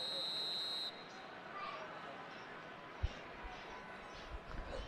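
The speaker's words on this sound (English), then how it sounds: "There's the whistle." In the football video game eFootball, a single long, shrill referee's whistle blast opens the moment, then gives way to a quiet crowd murmur with a few soft thumps.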